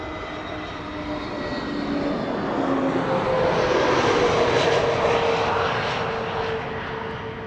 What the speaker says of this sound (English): this is an EasyJet A320neo arriving from Naples